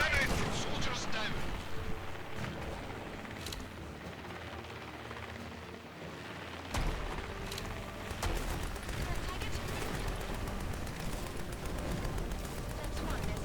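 Turret gunfire in the war video game Grit & Valor 1949: dense, continuous battle noise with booming impacts and sharp bursts. It runs loud throughout, with a heavy blast near the seventh second, and a voice talks over it.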